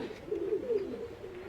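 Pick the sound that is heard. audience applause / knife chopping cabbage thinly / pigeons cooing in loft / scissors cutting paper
pigeons cooing in loft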